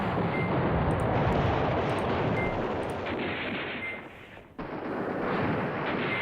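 Artillery bombardment in the war game Command Ops 2: a dense, loud, continuous rumble of overlapping shell bursts and gunfire, with a brief dip before the barrage resumes.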